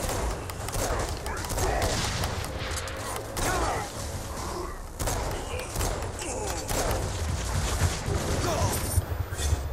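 Gunfire in Saints Row: Gat Out of Hell, a steady barrage of dense shots and mechanical clatter running through the whole stretch with hardly a break.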